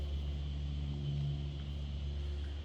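A 1953 Ford Customline sedan's engine idles steadily, a close, continuous low rumble with a constant hum and no talking.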